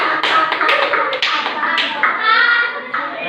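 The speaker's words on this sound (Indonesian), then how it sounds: "Tepuk tangan dulu." A class of schoolchildren in an Indonesian classroom claps together in a quick rhythmic pattern, with young voices chanting along over the crisp hand claps.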